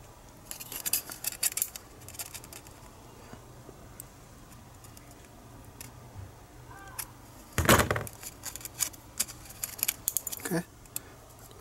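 Scissors snip through a thin aluminum Coke can while an alcohol stove is being made, a few quiet clusters of close cuts with one louder crunch partway through, over a low background hum.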